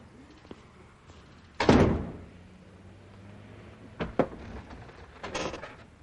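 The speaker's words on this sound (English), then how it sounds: "Close the door on your way out." Door closing with a loud solid slam, followed by a couple of softer thuds and knocks nearby, in a quiet indoor room with no talking.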